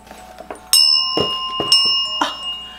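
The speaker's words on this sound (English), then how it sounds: "It's a witch's bell." A metal witch's bell rings with bright, sustained tones, struck or shaken a few times in quick succession, each strike leaving a lingering shimmer.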